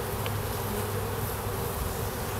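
Dense, steady buzzing of many honey bees at a hive entrance during queen rearing with a Cloake board, a close, continuous drone filling the whole moment with no voices.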